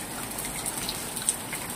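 Heavy rain pours down in a dense, continuous hiss, with louder drops now and then spattering nearby surfaces. Nothing else can be heard.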